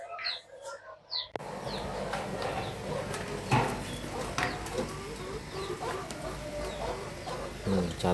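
An aggressive chicken clucks in short bursts amid a busy outdoor backdrop of rustling and thumps, the calls moderately close and intermittent over steady background noise.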